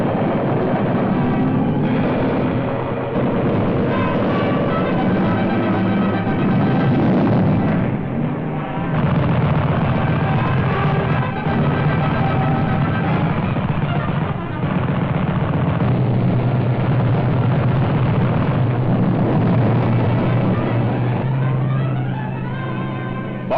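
Wartime flying bombs exploding in midair as interceptor aircraft attack them, heard as continuous loud rumbling booms and roaring engine drone with muffled, narrow archival newsreel quality and no clear pauses.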